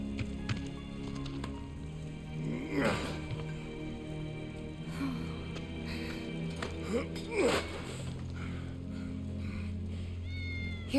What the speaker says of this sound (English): It's Wedge's cat.